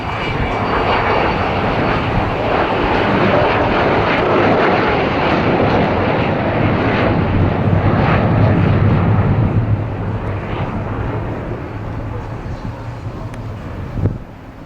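Avro Vulcan XH558 bomber roaring past at an air show, a loud, sustained jet engine rumble that swells and then eases off as it moves away, with a faint voice underneath.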